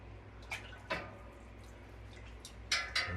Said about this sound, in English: I'm going to just stir it up a little bit. Not mixing, just kind of stirring.